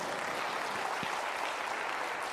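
Audience applause at a VEX Robotics tournament, a steady wash of many hands clapping that fills the hall evenly and continuously, with no speech over it.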